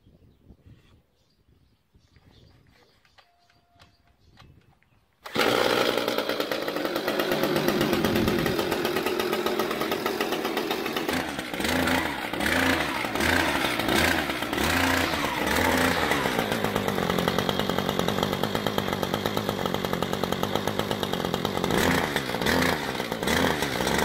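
A Kawasaki TJ 35 E brush cutter engine is quiet for about five seconds, then bursts into loud, close running and holds a steady buzzing two-stroke drone. Later it shifts into a rougher, pulsing rhythm that stays loud to the end.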